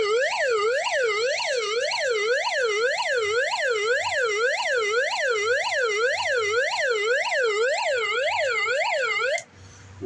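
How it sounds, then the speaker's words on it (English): An SOS alarm light's siren wails in a fast, regular rising-and-falling sweep, loud and close, repeating steadily for about nine seconds before cutting off abruptly. "That is SOS light with SOS noise."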